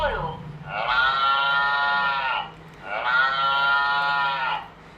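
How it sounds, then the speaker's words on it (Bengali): A children's smart sound book plays a cow mooing, two long sustained moos in succession, clear and close. "গরু।"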